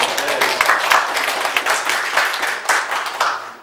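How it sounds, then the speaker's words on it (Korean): A church congregation breaks into applause to celebrate a member's pregnancy announcement, a dense, fairly loud burst of clapping from many hands that tapers off toward the end. "박수 한번 쳐주세요."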